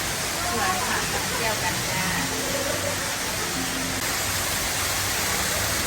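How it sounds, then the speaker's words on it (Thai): A waterfall in a northern Thai ornamental flower garden gives a steady broadband rush of falling water, continuous and fairly even, with faint voices mixed in the background. "ประกอบกับมีน้ำตก ให้เราได้ชมและก็ชุ่มชื่นกับสายน้ำ"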